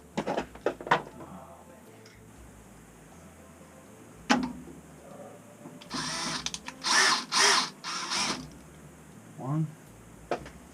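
A power driver whirs in short bursts, loosening screws on the circulator pump of a Navien combi boiler, with clicks and clatter between runs and someone talking quietly.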